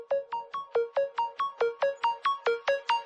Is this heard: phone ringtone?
yes